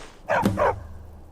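A dog barks in Skyrim, the Elder Scrolls V on PS5: one short, close bark with a quick double-pulsed shape, then quiet.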